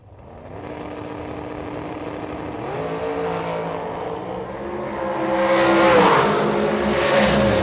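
An FTI dragster at a drag racing event, a loud engine roar held under load, with the pitch stepping up and the noise swelling heavier toward the end of the run.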